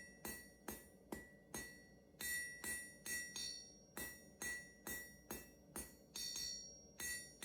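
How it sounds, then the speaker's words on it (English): A blacksmith's hammer strikes hot steel to taper the handle of a forged fork: a steady series of sharp, ringing metallic blows, roughly two per second, close and clear with no talk. "you want to be extra careful with these hammer blows"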